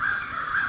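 A crow in the forest gives a single drawn-out alarm caw, harsh and fairly close, heard on its own with no talking.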